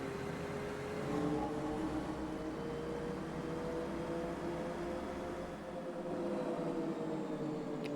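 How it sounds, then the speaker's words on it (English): A MAN SD85 bus engine in OMSI 2 hums steadily on light throttle, giving a smooth, sustained drone with a slight rise and a brief dip, continuous and fairly loud with no talking. "You literally just tickle the throttle and you get that lovely noise."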